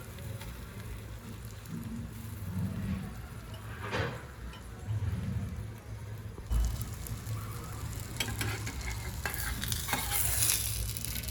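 A chicken egg paratha shallow-fries in oil on a pan, a steady close sizzle and crackle running throughout, with occasional scraping as it is handled and turned.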